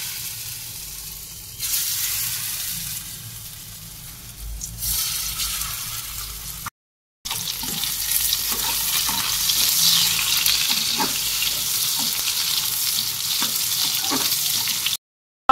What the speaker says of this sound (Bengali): তেল গরম হয়ে গেছে, সয়াবিনগুলো ভেজে নেব।